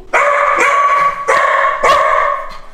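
A dog barks three times in a clear, sharp rhythm, close by and loud, with no other sounds around it.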